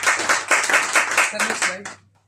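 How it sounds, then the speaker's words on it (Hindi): An audience applauds a speaker at a Hindi-language DXN products and business opportunity meeting, with loud clapping in steady bursts for about two seconds before it cuts off, while low voices mix in. "इनके लिए एक जोरदार ताली चाहिए।"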